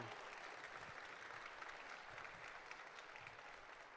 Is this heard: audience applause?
yes